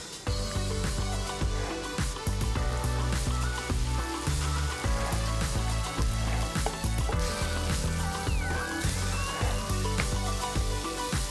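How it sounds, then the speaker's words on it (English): Smoky bacon sizzles loudly in an oiled pan as its fat renders, a dense, continuous crackle and spatter heard up close with scattered sharp pops, no talking. "We're gonna add this into the pan with a little oil, render that fat out"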